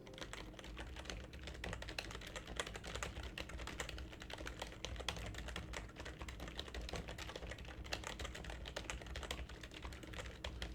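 Continuous rapid typing on a computer keyboard, dense irregular key clicks at a steady soft level throughout, close to the microphone during a game stream.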